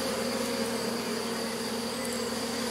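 Honey bees in an opened hive being inspected, a steady dense buzz of many insects close by, continuous and even, with no talking.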